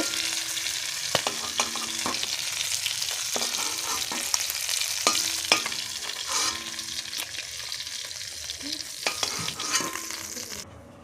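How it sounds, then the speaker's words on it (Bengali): Rohu-style fish nearly done frying in mustard oil, a dense continuous sizzle close by, punctuated by repeated scraping stirs and clinks of a spatula against the pan. "মাছটা প্রায় ভাজা হয়ে গেছে।"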